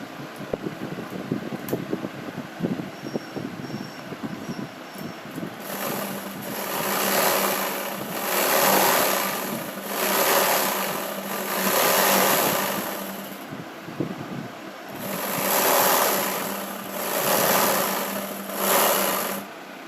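Sewing machine stitching along a round-shaped garment edge in a tailoring class, running in several steady bursts of a few seconds each with short pauses between, close and fairly loud.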